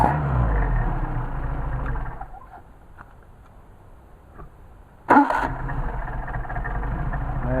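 A Mercedes 190SL engine on Solex carburetors idles steadily, dips to a quieter low rumble, then catches with a sharp burst and settles back into a loud, even idle close by.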